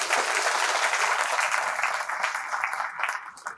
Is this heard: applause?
yes